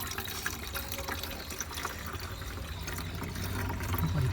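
Water runs from a pipe into the radiator of a Tata Sumo, a soft, continuous trickle and gurgle heard close by with no talk over it.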